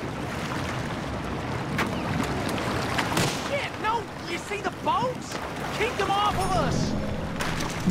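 Boats churn across water in Red Dead Redemption 2 Online, a steady wash of wake and engine rumble with wind, mid-distance and continuous, while voices talk over it.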